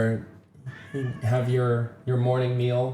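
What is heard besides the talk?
cat meowing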